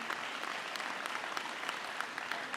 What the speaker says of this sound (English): So we'll give him a round of applause, although he is a graduate.